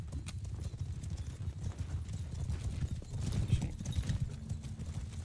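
Dense, rapid hoofbeats of many horses galloping together in the video game Mount & Blade II: Bannerlord, a continuous rumbling clatter at moderate volume with no talking.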